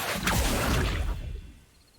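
Accio summoning spell in the Hogwarts Legacy video game, a broad rushing whoosh that swells quickly, holds for about a second, then trails off into quiet.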